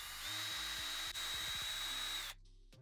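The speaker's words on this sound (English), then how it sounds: "I think I'm gonna drill right here just above the lime" A high-pitched power drill whines steadily for about two seconds while drilling into a cup just above a lime slice, with a brief dip midway, then cuts off abruptly.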